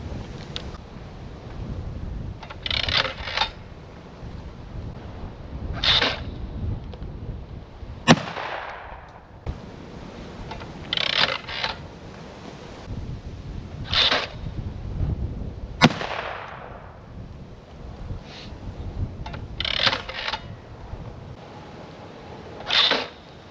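Shotgun loaded with 6-shot fired at clays launched from a Caldwell Claymore thrower set to its highest setting. Several loud, sharp reports come at irregular intervals, some as close pairs, over steady outdoor wind noise.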